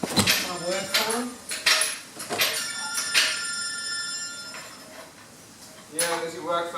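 A work phone rings with repeated bright electronic trills, mid-distance in a garage during engine and gearbox removal work, while people talk over it and metal clinks in the background.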